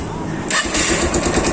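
A motorcycle engine cranks and catches, rising into a close, loud, steady idle after about half a second.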